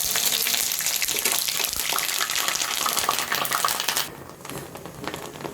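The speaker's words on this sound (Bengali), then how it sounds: "তেল গরম হয়ে গেছে, এখন দিয়ে দিচ্ছি পেঁয়াজ বাটা" Onion paste hits hot oil in a pan for a dish of yogurt chicken, giving a loud, steady, close-up sizzling hiss that drops noticeably quieter near the end.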